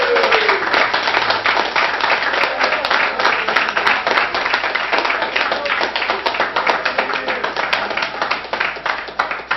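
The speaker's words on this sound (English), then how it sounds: "I got applause" Audience at a city council meeting applauding after a 3-2 vote, a sustained burst of scattered clapping that stays loud throughout.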